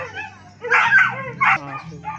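A dog kept at a mountain home during an 81st birthday gathering gives a few short yips and barks close by, in two louder bursts with soft whimpering between them.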